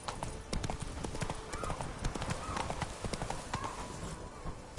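Roach, the horse in the video game The Witcher 3: Blood and Wine, trots with a brisk, rhythmic clip-clop of hooves that stays steady and close throughout.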